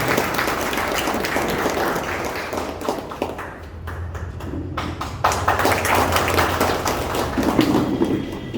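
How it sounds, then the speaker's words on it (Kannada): An audience at a mobile traders' association inauguration in Hunsur claps to welcome a circle inspector, dense sustained applause from a nearby crowd that briefly thins and then swells again. "ಶ್ರೀ ಮಹೇಶ್ ಕಶ್ಯಪ್ ಅವರು ಸರ್ಕಲ್ ಇನ್ಸ್ಪೆಕ್ಟರ್ ಅವರ ಚಪ್ಪಾಳೆ ಮುಖಾಂತರ ಅವರಿಗೆ ಸ್ವಾಗತವನ್ನು ಬಯಸೋಣ"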